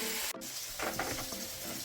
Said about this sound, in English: Making some fried potatoes.